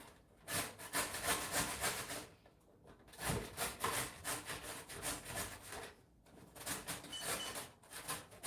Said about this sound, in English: Let's grate some carrot.